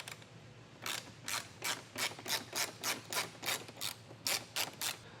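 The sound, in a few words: removing grille bolts with a T40 Torx bit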